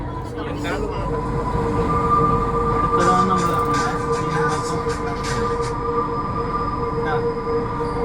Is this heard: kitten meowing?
no